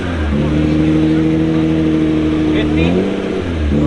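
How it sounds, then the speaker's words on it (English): A loud car engine rumbles and revs close by, its deep tone steady with a slight rise and dip toward the end. "this car is loud as shit"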